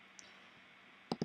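A computer mouse clicked twice in quick succession, sharp and close, after a short quiet pause with a faint earlier tick.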